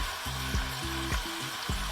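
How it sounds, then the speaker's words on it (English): Shrimp, New York strip steak and bison sizzle on a hibachi grill aboard a boat, a steady soft frying hiss broken by several brief utensil taps and scrapes. "That's sizzling up nice."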